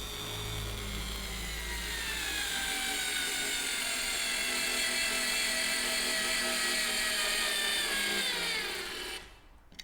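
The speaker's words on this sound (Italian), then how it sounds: "Adesso proveremo ad avvitare questa vite da soli 3 mm di diametro per 3 cm di lunghezza e vediamo come si comporta." A Parkside PSSA 4 B2 electric screwdriver drives a 3 mm diameter, 3 cm long screw, its motor giving a steady, strained high whine that holds close and loud for several seconds before cutting out abruptly.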